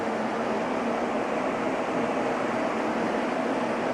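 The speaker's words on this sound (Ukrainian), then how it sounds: "вентилятор на охолодження" An electric cooling fan for a cryptocurrency mining farm hums steadily with a continuous airy whir, unchanging throughout and with no one speaking.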